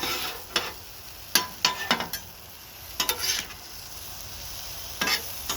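Pesto heating on an outdoor griddle at night, giving a steady high sizzle with several short bursts of scraping and crackle spread across the stretch, fairly close and with no talking.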